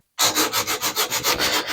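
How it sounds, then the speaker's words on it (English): Rhythmic hand sanding of body filler on a rusted washing machine, steady back-and-forth rasping strokes about five per second, close and loud, with no voices. "so I can easily sand it by hand"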